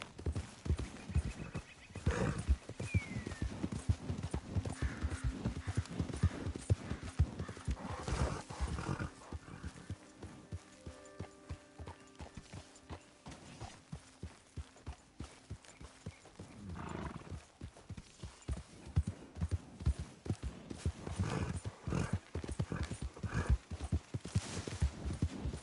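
A horse gallops in Red Dead Redemption 2, its hooves pounding in a fast, steady rhythm close by, with occasional snorts and whinnies and a brief slower stretch midway before the galloping picks up again.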